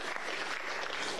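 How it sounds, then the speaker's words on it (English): A church congregation applauding during a sermon: a short, dense burst of many hands clapping together, even and sustained throughout. "You can clap."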